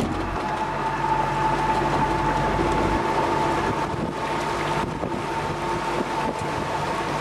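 A ship passing close by on a small river, a continuous low engine drone and rumble with a steady hum, buffeted by wind noise on the microphone, no talk.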